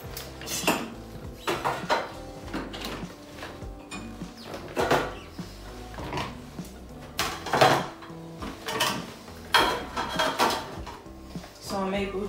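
Plates, pots and cutlery clatter and clink while a dishwasher is loaded from a seated position, in irregular bursts of sharp knocks and rattles close by, with occasional quiet speech.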